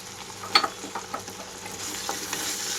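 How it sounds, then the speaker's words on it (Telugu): Red chillies sizzle and fry in a pan, a quiet steady crackle with light stirring clicks and scrapes and no talking. "ఈ లోపల మిరపకాయలన్నీ వేగినాయో లేదో చూస్తున్నాను"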